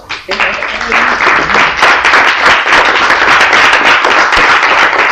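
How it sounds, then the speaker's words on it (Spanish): A church congregation claps in applause for the Lord, a dense and loud burst of many hands that holds steady throughout with voices mixed in. "que usted le dé un aplauso al Señor"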